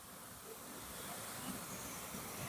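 Jhuri snack strands deep frying in oil, a soft continuous hiss and bubbling sizzle heard at a moderate distance with no talking.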